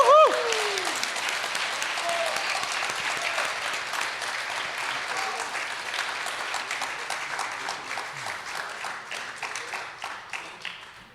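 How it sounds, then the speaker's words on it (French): A crowd applauds warmly for an award winner at a storytelling contest event, full steady clapping with a cheer at the start, slowly fading, with voices mixed in. "je vous invite à l'applaudir chaleureusement"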